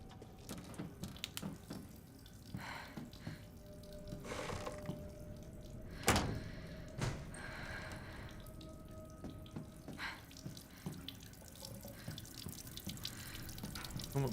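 A tap runs steadily in the Resident Evil Village game, a continuous hissing water stream at moderate distance, with a few sharp knocks and clatters scattered through it.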